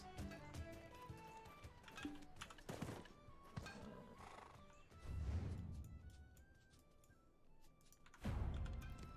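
Horse neighing in the online game Black Desert, a whinny rising over a busy game soundscape with background music and hoof clatter, with a couple of louder bursts partway through and near the end.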